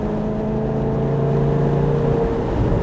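Italian sports car engine accelerating, a steady loud drone with rising harmonic tones as it picks up speed, continuous and close throughout.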